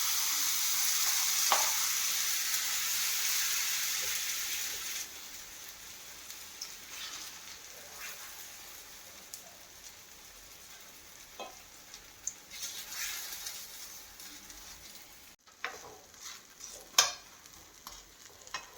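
Pancake batter sizzles in ghee in a pan, a hissing fry that starts loud and settles to a quieter crackle, broken by scattered clicks and scrapes of a utensil.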